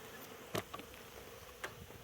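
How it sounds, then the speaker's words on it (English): Honey bees flying in and out of an overwintered nuc hive, a faint soft buzzing with a few brief passes of individual bees close by, no talk. "a lot of bees going in and out."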